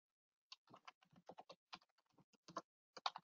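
Quick, light keystrokes tap on a computer keyboard during a software session, a close, quiet burst of irregular clicks with brief pauses between them and no talking.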